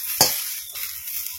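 Bottle gourd frying in ghee gives a quick scraping stir up front, then a soft, steady sizzle that carries on close by, with no one talking.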